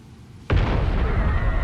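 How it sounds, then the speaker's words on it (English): A sudden loud explosion boom in the video game Bleach Rebirth of Souls, erupting sharply from quiet and trailing into a sustained heavy rumble. "What was that booming noise?"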